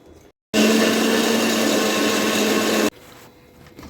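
A mixer grinder grinds neem leaves in a loud, steady whirring burst that starts abruptly, runs for a couple of seconds at constant pitch, then cuts off sharply into quiet.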